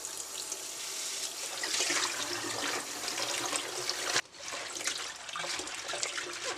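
Tap water runs over leafy greens being rinsed in a kitchen for a Jamaican breakfast, a steady close splashing rush that briefly cuts out near the end and then resumes, with no talking.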